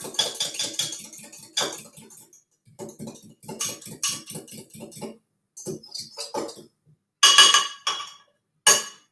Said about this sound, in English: just going to take a fork, just going to break that and lightly whisk it